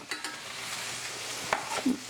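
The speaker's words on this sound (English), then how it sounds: "There's my ginger so it can start frying up in the middle" Ginger sizzles and crackles in a hot skillet, with a few light scraping and clinking touches of a utensil stirring.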